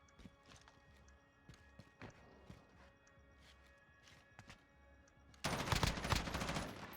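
Gunfire rings out in a tournament match of a shooter video game, a sparse series of sharp single shots spaced irregularly, followed by a sudden dense burst of loud noise near the end.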